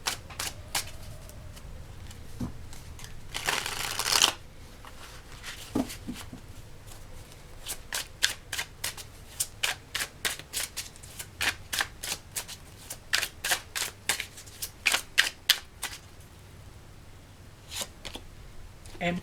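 A deck of tarot cards being shuffled by hand, heard up close as crisp snapping and riffling bursts. A longer riffle early on gives way to a quick run of sharp, evenly spaced flicks, with no talking.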